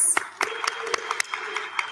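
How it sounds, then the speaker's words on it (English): Audience at an HIV conference session applauds a speaker being introduced, a short patter of claps of moderate loudness, somewhat sparse and uneven. "Give her a round of applause"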